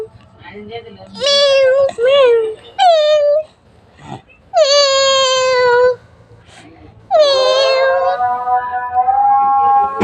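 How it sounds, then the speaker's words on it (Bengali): A kitten meows loudly and close in several drawn-out, wailing calls separated by short pauses, the last cry long and rising. "হাই বিড়াল ছানা কতদিন হয়েছে"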